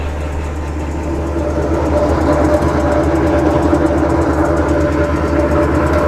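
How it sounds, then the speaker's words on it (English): A WoodMaxx wood chipper engine runs at high RPM with a loud, steady drone and a dense mechanical rumble that holds evenly throughout, with no talking. "run the engine quite high"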